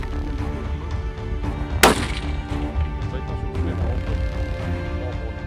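A single sharp, loud rifle shot fired through a muzzle brake while zeroing at a range, one abrupt blast cutting through steady outdoor background noise.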